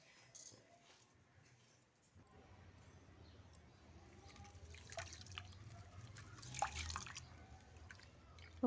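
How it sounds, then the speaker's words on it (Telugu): Rice is washed in water with rice flour by hand in a bowl, giving soft wet squishing and sloshing with scattered drips and small splashes. It is quiet and close, with no talk. "ఇలా బియ్యం పిండి వేసి కలిపి కడగండి, తొందరగా పోతుంది"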